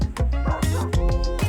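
A dog barks in a quick series of about five sharp, close barks at an even rhythm, with nobody speaking over them.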